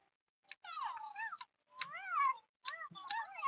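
Two cartoon cats in a video game meow back and forth in three drawn-out, clear calls with short pauses, each preceded by a brief click, with no talk over them.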